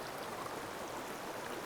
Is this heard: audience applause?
no